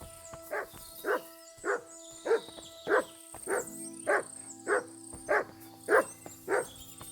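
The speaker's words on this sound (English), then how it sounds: "Here, Mutt" A dog barks in the medieval video game Kingdom Come Deliverance 2, giving about ten evenly spaced single barks at moderate distance over a steady hum of ambient game sound.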